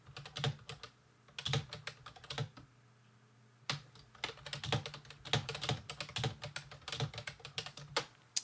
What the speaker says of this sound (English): Oh, that's just me typing in the chat.